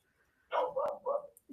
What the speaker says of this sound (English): Hear the dog barking outside.